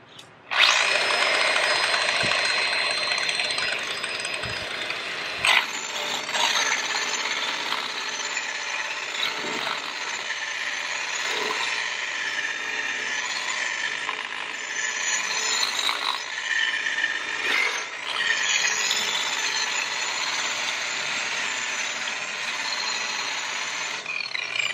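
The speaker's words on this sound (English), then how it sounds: "burnishing wheel with a little bit of sandpaper in it" A burnishing polishing tool fitted with a sandpaper wheel runs against metal at a low speed setting, giving a steady, loud whirring grind that holds for about twenty-five seconds with slight surges and no talk.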